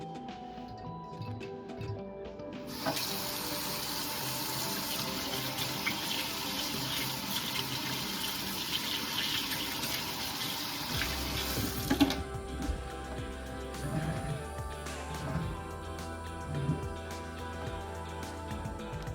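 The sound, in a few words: washing hands under running tap water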